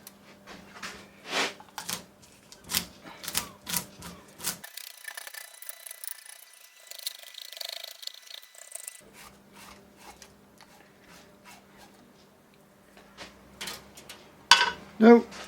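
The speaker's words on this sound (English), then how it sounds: "Just scrape up the side of the fish, back to front, with a blunt end of your knife." A knife's blunt edge scraped along the side of a bass to remove its scales, making repeated rasping strokes in a close, uneven rhythm, with someone talking over parts of it.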